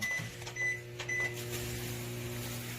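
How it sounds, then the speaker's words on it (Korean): A microwave oven runs inside a Rexton Sports Khan pickup truck with the engine off, powered through an added 220 V outlet. A few short beeps come first, then a steady electrical hum, close and fairly quiet, with no talk. "지금은 무시동 상태고 전자레인지를 한번 돌려볼게요"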